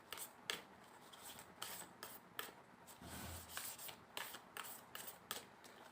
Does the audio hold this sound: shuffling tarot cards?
yes